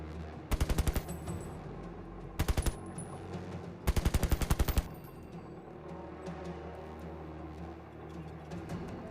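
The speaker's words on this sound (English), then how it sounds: "you all just hear distant gunshots or muffled gunshots" Three bursts of rapid automatic gunfire ring out, short rattling volleys separated by pauses, over a low steady background hum.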